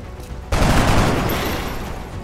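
A burst of gunfire erupts in XCOM: Enemy Unknown, one sharp loud volley that booms out and rolls into a long decaying rumble with no talk over it.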